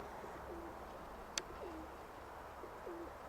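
A pigeon coos softly three times at a steady pace, low and fairly distant, with a single brief click partway through.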